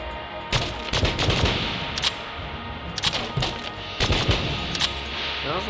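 A strafe gun fires in Enter the Gungeon, with repeated bursts of rapid automatic shots separated by short pauses, loud and close over steady game background sound.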